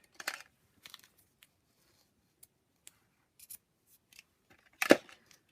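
Scissors snip through a length of mini chevron ribbon for a handmade card, with a few soft scattered clicks and rustles before one sharp, close cut near the end; no one speaks.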